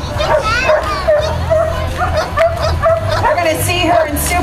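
A 1-year-8-month-old female Belgian Malinois barks and yips repeatedly at a dock diving event, with a steady rhythm of sharp calls under continuous commentator talk and crowd noise.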